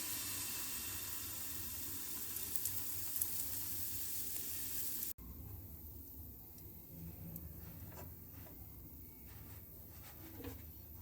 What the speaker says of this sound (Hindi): लो फ्लेम पर पैन को गर्म करेंगे, ऑयल से ग्रीस करेंगे और लो फ्लेम पर ही छोटे छोटे पैन केक तैयार करेंगे